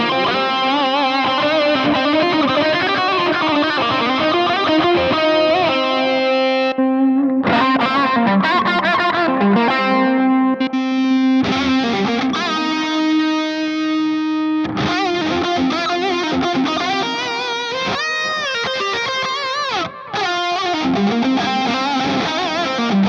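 Distorted electric guitar lead through a Strymon Iridium amp modeler with added delay, playing sustained melodic notes and bends with echoing trails, loud and alone throughout.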